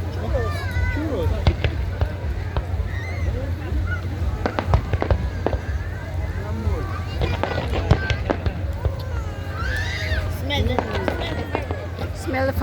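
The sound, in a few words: fireworks display exploding over Doha Corniche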